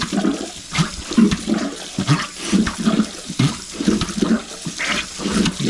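Water from a kitchen sink filled to the top gurgles and rushes down the drain during a clog fix, with a rhythmic glugging and sloshing pulse that repeats about every second and continues steadily throughout.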